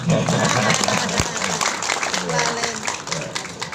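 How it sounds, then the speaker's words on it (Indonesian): An audience at a hospital anniversary event claps briefly while a speaker's voice carries over and continues, the applause fading under the talk. "Boleh tepuk tangan ya."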